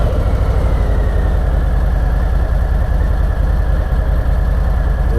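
2020 Harley-Davidson Softail Slim idling close by, a loud, steady low rumble with an even pulsing throb throughout and no voices.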